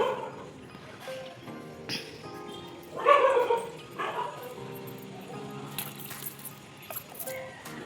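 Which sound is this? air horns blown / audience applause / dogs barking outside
dogs barking outside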